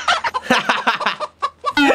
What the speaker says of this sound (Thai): เสียงมันไก่นะเมื่อกี้กระตากกระตาก